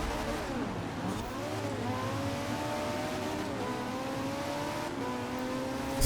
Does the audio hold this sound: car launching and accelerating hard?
yes